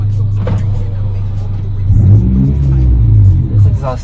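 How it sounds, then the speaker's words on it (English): An Acura Integra with its muffler deleted revs its exhaust, a deep, loud, rumbling drone that swells midway and stays strong, heard up close with talk around it. "This exhaust sounds so good,"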